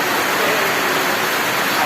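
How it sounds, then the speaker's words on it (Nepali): Heavy rain pours outside in a dense, loud, unbroken hiss that stays even from start to finish. "झ्याम पानी परिरहेको छ"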